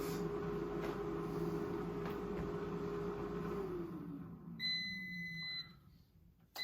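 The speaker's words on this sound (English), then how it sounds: "There's the beep." An air fryer finishing a batch of French fries gives a short series of clear electronic beeps, sounding alone after a humming fan winds down to near silence.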